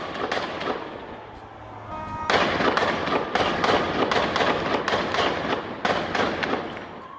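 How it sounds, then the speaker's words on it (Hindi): Rifle fire from fighters in the Gaza war, heard as a rapid run of sharp, fairly close cracks and thumps that comes in repeated bursts over a noisy outdoor background, with no voices. "एक लड़ाका देखिए राइफल से फायर करता हुआ इसमें नजर आ रहा है।"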